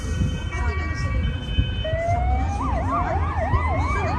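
A police car siren wails at night in Budapest, its rising and falling tone sweeping up and down over traffic rumble and murmuring voices, growing clearer partway through.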